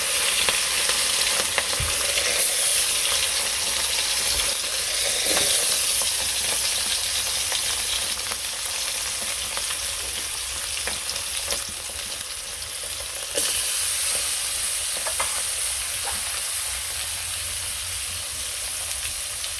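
Fish pieces rubbed with salt and turmeric fry in oil with cumin in a wok, giving a continuous moderate sizzle with faint crackles and a few soft clinks, steady throughout.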